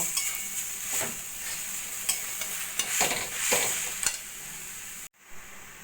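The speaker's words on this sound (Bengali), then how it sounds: "এবার গুড়টা ভালো করে নারকেলের সঙ্গে মিশিয়ে নেব" Grated coconut and jaggery stirred together in a pan for coconut naru, a steady scraping stir with soft sizzling and a few sharper knocks of the spoon, close and alone, stopping abruptly near the end.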